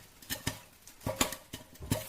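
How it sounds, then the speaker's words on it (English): Popcorn popping, a few scattered quick pops with soft crackle between them, faint and close, no voices. "Let's import the popcorn."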